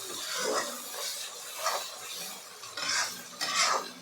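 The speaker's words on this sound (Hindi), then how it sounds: "अब इसको हम इसी में मिक्स करेंगे चलाते हुए।" Fish masala with red chilli fried in a pan is stirred close up, soft repeated scraping strokes over a quiet sizzle.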